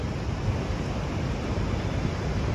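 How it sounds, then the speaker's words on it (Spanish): Floodwater rushing loudly through an arroyo in Nogales after rain, a continuous broadband roar with no breaks and no voices. "se oye muy fuerte el ruido del agua"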